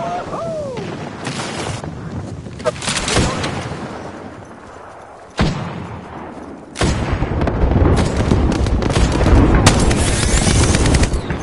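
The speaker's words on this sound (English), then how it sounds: "Airstrike!" Video game airstrike battle: dense gunfire and explosive booms roll on continuously, with a sharp blast near the middle and a louder, sustained barrage of shots and detonations in the second half.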